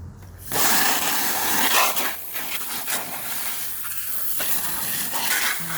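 Hose nozzle spraying water onto a compost pile, a continuous broad hissing spray close by that starts after a brief quiet moment and continues steadily with slight fluctuations.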